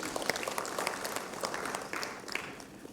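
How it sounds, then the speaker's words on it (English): Applause from the audience at a leadership summit in Bengaluru: a moderate round of clapping with distinct hand strikes, steady at first and thinning toward the end. "So a round of applause to you."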